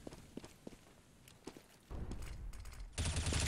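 Gunfire and footsteps in a competitive Counter-Strike: Global Offensive esports match: scattered steps and sharp shots early, then a sustained burst of loud rapid gunfire building to a heavy close volley at the end.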